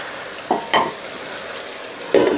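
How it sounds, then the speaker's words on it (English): Lamb masala cooking in a pan over a medium-low gas flame, a steady close sizzle and fry with a few brief scraping stirs, no voices. "we're going to let that masala and everything cook for about 5 minutes or so on a medium low gas"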